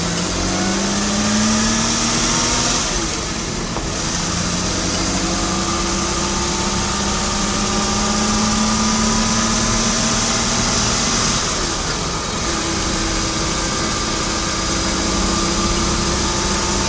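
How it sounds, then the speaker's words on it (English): A Ferrari 250 series V12 of almost three liters runs steadily for the whole stretch, loud and close, with a sustained hum and a few brief dips and rises in pitch but no talk. "This is the famous 250 engine. It's actually a almost 3-liter engine."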